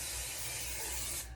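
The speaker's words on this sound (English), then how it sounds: "we've got to take our olive oil spray and spray our pans" Olive oil cooking spray hisses steadily onto a pan at close range, one continuous burst that cuts off near the end.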